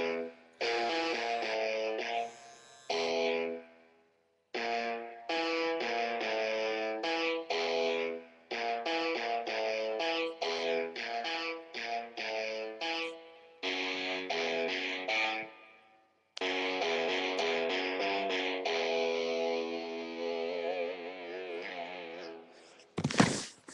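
A riff played on an iPad in GarageBand with a distorted electric guitar tone, bursts of chugging, repeated notes broken by short silences, ending in a long ringing phrase and a brief sharp noise.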